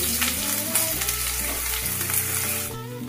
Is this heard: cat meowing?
no